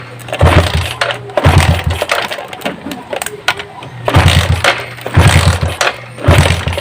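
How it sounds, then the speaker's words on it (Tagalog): Motorcycle engine cranked repeatedly without starting, loud close bursts of rhythmic mechanical churning separated by short pauses, with no speech. "Ipapakita ko sa inyo na hindi nga umaandar yan."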